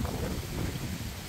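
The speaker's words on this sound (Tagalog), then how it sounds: "Malakas ang hangin." Strong wind blowing outdoors, a brief steady rushing roar with low buffeting across the microphone, no voices present.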